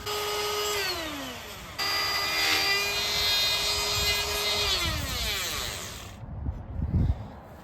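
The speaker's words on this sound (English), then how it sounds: "I set my router for the exact depth and make the last pass." A wood router makes its final pass cutting a mortise in a door for a flush bolt, a loud whining motor that drops in pitch as it bites into the wood, then trails off into brief handling noise.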